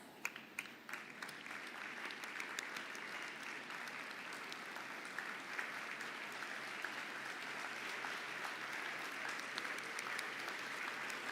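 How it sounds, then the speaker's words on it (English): An audience at a graduation ceremony applauds departing graduates, a steady, dense wash of clapping from many hands that holds evenly for the whole stretch without any talking over it. "I ask you to please stand up and give them a round of applause."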